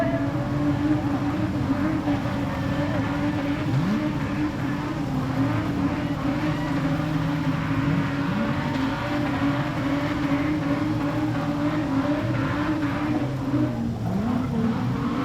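Street stock race cars circle a dirt speedway in an Australian title A-main, a thick, continuous layered engine roar with revs swelling and fading as the cars pass, loud and without pause.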